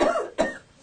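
A person gives two quick, close coughs, the second sharper than the first, with a short gap between them and no talking.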